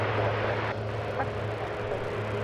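American passenger jet on flight 2600 to New Orleans taxis at an airport, a steady low engine drone with a constant hum heard from a distance, with no talk.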